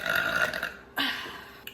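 A close, loud burp comes from a person, with a first belch and then a second one, and a small hiccup-like sound at the end.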